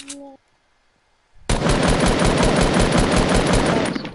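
Rapid SMG fire in Fortnite gameplay: a sustained, loud burst of gunshots lasting close to three seconds after a brief quiet moment, with a short tone blip at the start.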